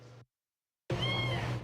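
Feral cats trapped by an animal shelter in Tampa Bay meow loudly and close by, a brief clipped cry, then after a short silence a longer, drawn-out meow.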